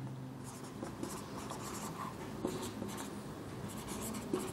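A pen scratches across paper in short, rhythmic strokes while a complex-analysis problem is written out, close and fairly quiet against a low background hum, with occasional small taps.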